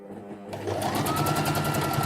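A sewing machine stitches fabric for a Tilda doll, starting abruptly after a short quiet moment and then running at steady speed with a rapid, even needle rhythm, close and loud, with no talk.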